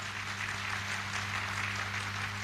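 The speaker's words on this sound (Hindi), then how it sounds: "मैं चाहूँगा श्री बृजभूषण यादव जी के लिए अब तक की सबसे जोरदार ताली होनी चाहिए।" Audience applause at a large Safe Shop meeting in Gorakhpur, a steady dense wash of clapping held at even loudness throughout with a faint low hum underneath and no voices.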